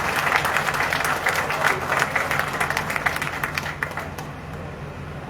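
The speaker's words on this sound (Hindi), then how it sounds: "जोरदार तालियों से स्वागत करें" Sustained, dense applause from a crowd welcoming BJP district president Preet Gupta at a party office inauguration in Ramnagar, steady throughout with a low hum beneath and tapering slightly near the end.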